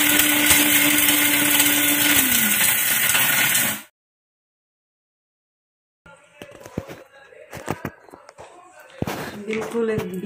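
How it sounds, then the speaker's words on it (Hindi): Electric kitchen grinder powdering roasted biryani masala spices, a loud, steady high whir lasting several seconds before cutting off abruptly, followed by silence and then clattering and a voice. "इसे मैं ग्राइंडर में पाउडर बना लूँगी इसका"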